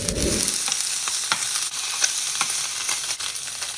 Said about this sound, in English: I'm gonna quickly throw in a nub of butter